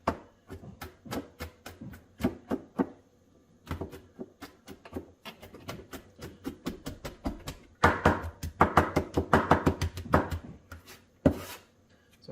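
Vegetables are chopped on a board with a kitchen knife for stuffed bell peppers. The chopping is close and comes in irregular bursts of sharp taps that build into a faster run of cuts.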